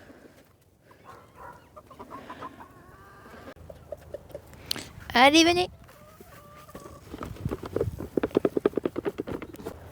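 Hens and a rooster on a French farm cluck and call amid general barnyard noise, with a burst of loud crowing or squawking midway and rapid pecking or scratching taps near the end, while a person talks over much of it.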